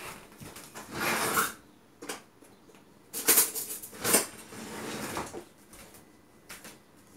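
A spoon mixing ingredients in a bowl, giving a few bursts of scraping and clinking spread unevenly through the stretch, close and fairly quiet, with pauses between strokes and no talking.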